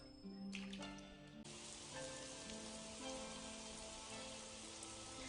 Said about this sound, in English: I like the effect of rain in this anime. Like the way it falls on people.